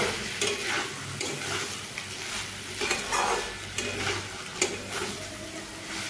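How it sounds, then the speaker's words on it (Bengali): Basanti pulao ingredients frying in a pan, a steady close sizzle with stirring scrapes and small clinks running through the whole stretch at an even, moderate level, no voices. "কয়েক সেকেন্ড আমি এইভাবে ভাজতে থাকবো"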